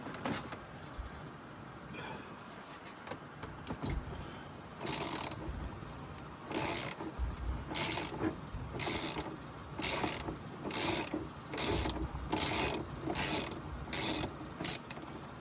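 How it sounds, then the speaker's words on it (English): A ratchet with an extension and 25 mm socket working on a 2025 Kenworth W900 truck: bursts of rapid clicking, first sparse and then in regular repeated strokes, close and loud over faint background noise. "you're going to take your ratchet with your extension. It's going to be a 25 mil."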